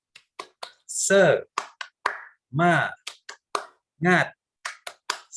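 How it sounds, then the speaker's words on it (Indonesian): Rhythmic hand claps and sharp snaps come in quick patterned bursts as part of a spirited classroom cheer, close and crisp, alternating with a voice loudly chanting. "Kita tepuk semangat dulu ya."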